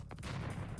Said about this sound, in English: I do hear gunpowder.